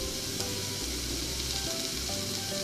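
Pork for ginger pork with grated onion sizzles and spits steadily in a hot pan during stir-frying, a dense continuous frying hiss with no talking.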